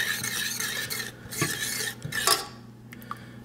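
Coconut milk being stirred into a jerk chicken marinade, a spoon scraping and clinking against the bowl in short repeated strokes, close and fairly quiet, with no talking.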